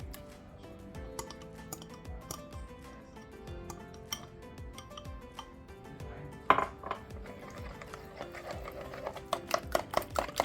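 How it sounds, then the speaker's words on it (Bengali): A whisk beats egg and yogurt in a bowl, quick light metallic clicks and taps in an uneven steady rhythm, close and fairly quiet, growing sharper near the end. "হুইস্কার দিয়ে আমি সামান্য ডিমটা বিট করে নিচ্ছি"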